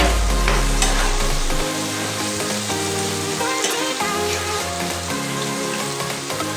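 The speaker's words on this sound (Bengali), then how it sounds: "আমার পনিরটা ভাজা হয়ে এসেছে" Paneer frying in hot oil in a pan with sugar and chilli powder gives off a steady, close sizzle and crackle, with tuneful background sounds running underneath the whole time.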